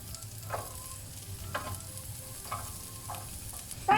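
Onion and ginger fry in a pan with a constant, moderate sizzle, broken by several soft scraping stirs and a sharper clatter at the end.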